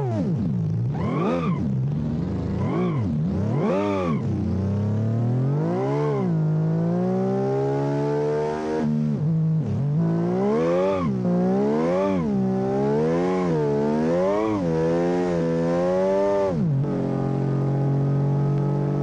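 W12 land speed record car engine in the BeamNG driving game, revving repeatedly through rising and falling RPM sweeps, a loud harmonic whine that climbs with each gear, continuous and close with no talking.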